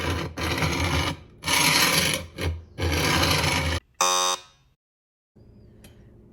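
A rough Lodge cast iron skillet is scraped in several loud, gritty bursts separated by short pauses, ending with a brief ringing metallic scrape before near silence.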